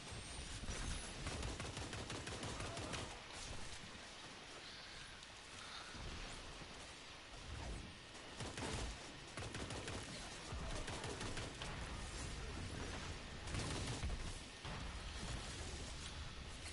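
Gunfire from a gun in a video game fired into the air: a steady, dense barrage of rapid shots running continuously for the full length, fairly faint and unbroken, with no talking.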